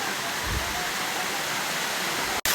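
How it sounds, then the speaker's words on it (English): Sticky Waterfalls near Chiang Mai, Thailand, produce a constant broadband rush of falling water, loud and close, with a brief dropout near the end. "I'm at the sticky waterfalls in Thailand, Chiang Mai."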